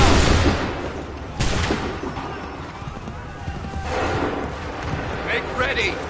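Soldiers fire a volley in Assassin's Creed 3, a cracking burst followed by booming shots and a rumbling tail, heard over a busy battlefield with voices and a loud, sustained din.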